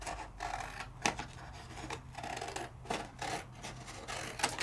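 Scoreable craft paper is cut by hand with scissors, not a trimmer, giving quick, irregular snips and rasping crunches at close range.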